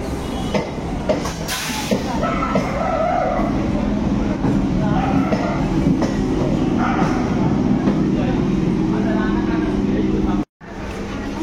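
A local train at Naihati station gives a steady loud rumble and hiss from on board, broken by a brief dropout near the end.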